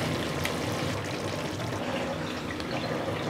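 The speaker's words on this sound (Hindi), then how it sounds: "हम इसे अब जो काजू की ग्रेवी हमने तैयार की है उस पर पोर कर देंगे।" Cooked mutton for a white korma is poured from a pressure cooker into cashew gravy, making a steady, soft liquid pour that runs without a break.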